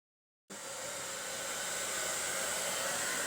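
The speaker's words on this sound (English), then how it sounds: "We could actually get a blow dryer and dry this thing, speed it up." A hair dryer switches on after a brief silence and blows steadily with a loud, constant whooshing hiss.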